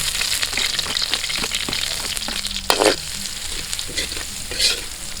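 Garlic sautéing in oil in a pan outdoors, a steady close sizzle and crackle with scraping stir strokes across it and a brief louder hiss partway through.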